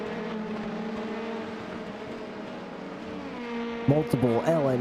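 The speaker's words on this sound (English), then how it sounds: "Multiple LMP2s and GTEs snaking their way up the hill here at Road Atlanta." LMP2 and GTE race cars climbing the hill at Road Atlanta in a sim racing game, engines droning steadily at moderate distance, with a sharper rising engine note breaking in near the end under a commentator's voice.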